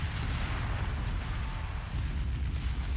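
Mechs blow up in a sci-fi combat game, producing a dense, continuous roar of deep booming explosions and artillery-like blasts that stays loud and rumbling throughout, with no clear pauses between the hits.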